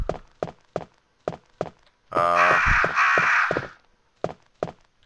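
Crows caw in a bird room in the Resident Evil Director's Cut game, a loud burst of overlapping harsh calls lasting over a second, set between regular thudding footsteps.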